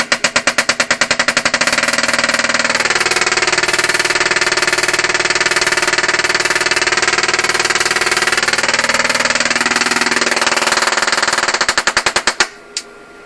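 A solid-state Tesla coil runs in normal mode during a test, giving a loud, harsh, rapid buzzing rattle like machine-gun fire that holds steady for about ten seconds and then cuts off abruptly.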